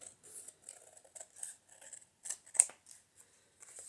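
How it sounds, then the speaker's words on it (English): Sharp scissors snipping through a single layer of cardstock, a series of short, crisp close-up cuts in an irregular rhythm with brief pauses between snips. "Here's my sharp scissors. And since it's cardstock, I'm cutting one layer at a time."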